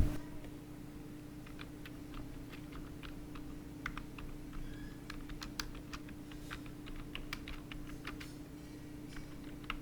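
Code being typed on a computer keyboard for a Python tutorial: a steady run of quiet, close key clicks with uneven rhythm over a low constant hum, no speech.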